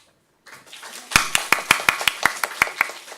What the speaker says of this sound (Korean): 박수 소리 조금 약한데 한 번 더 칩시다